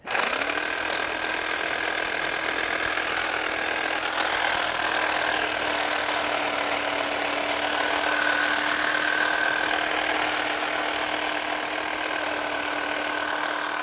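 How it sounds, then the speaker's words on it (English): A rotary hammer drills six inches off the ground into a retaining wall for drainage holes, a continuous loud, steady hammering drone with a sharp start, running without pause throughout. "This is a rotor hammer, so that means it hits it and vibrates at the same time."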